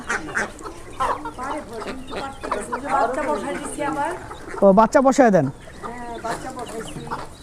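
Large laying hens on a home duck and chicken farm cluck and squawk close by, with a louder burst of calls midway, while people talk over them.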